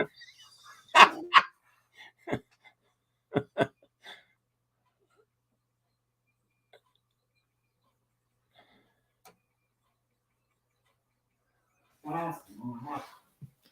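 Several dogs barking in short separate bursts, a few sharp barks early, then a long quiet gap and a final cluster of barks, faint and distant.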